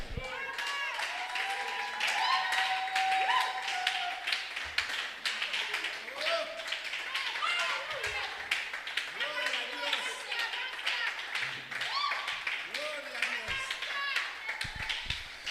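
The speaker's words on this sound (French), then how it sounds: "On acclame pour le Seigneur." Church congregation clapping in praise, a dense sustained patter of many hands with shouts and voices mixed in throughout, loud and continuous.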